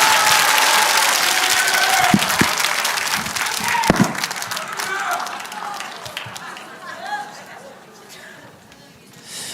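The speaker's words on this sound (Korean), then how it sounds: "우리 장항일 목사님께도 감사의 박수를 보내주시면 고맙겠습니다" Audience applause at a Korean church-style gathering, a dense burst of clapping that swells loud, then gradually thins and fades over several seconds, with a few sharper individual claps standing out near the start.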